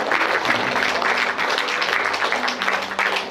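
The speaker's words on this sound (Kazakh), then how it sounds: "Қол шапалақтап, қошемет көрсетіңіздер." Audience applause at a Kazakh literary event in a regional library, steady dense clapping filling the whole stretch at an even level, with no voices on top.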